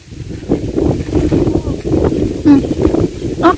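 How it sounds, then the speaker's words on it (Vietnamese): Wind blowing across open countryside in the Mekong Delta, where a snake kite is being made; a steady rough rush of wind noise against the microphone, with faint voices underneath. "Nó có gió lên này kìa"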